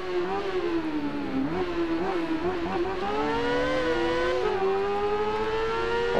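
Motorcycle engine in the Ride 1 racing game, World Supersport class, revving hard and climbing through the gears, a loud continuous rising whine with a few shifts, close and steady throughout, no voices.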